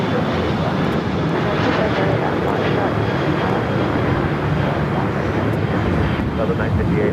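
An airliner takes off at LAX, its jet engines producing a loud, steady, broadband roar that holds constant through the whole stretch with no pauses.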